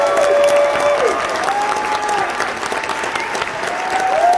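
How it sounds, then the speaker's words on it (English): Audience applause for high school band students at a school band event, steady dense clapping filling the room throughout, loud and sustained with faint crowd noise mixed in. "so let's give them a round of applause."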